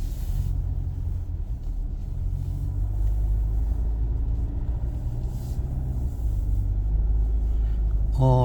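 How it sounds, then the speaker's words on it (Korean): An All New SsangYong Rexton, a frame-body SUV, drives along with a steady, deep engine drone and road rumble. Someone talks faintly under the noise from inside the cabin. "쌍용차 엔진이 조금 우렁차죠"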